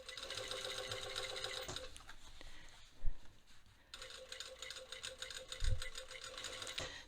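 Sewing machine stitching in the ditch along a waistband facing finished with bias tape, two bursts of rapid rhythmic needle chatter separated by a short quiet gap with a few thumps, soft and close.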